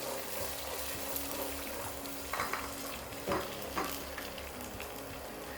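Two eggs are scrambled in hot coconut oil in a pan, giving a soft, steady sizzle with a few light scraping stirs over a quiet background.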